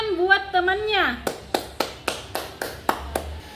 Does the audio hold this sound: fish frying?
no